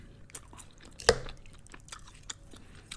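Crunchy mac and cheese corners being chewed up close during a mukbang, with one sharp crisp bite standing out among softer, quieter mastication sounds.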